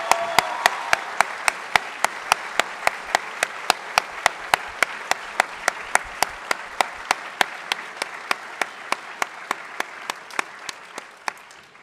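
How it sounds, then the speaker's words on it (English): School assembly applause for an award recipient: a loud, steady, evenly spaced clap close to the microphone sounds over a softer wash of crowd clapping, keeping its rhythm for about ten seconds before tapering off. "Please give a round of applause to this year's recipient, Jonathan Kalak-Chelminsky."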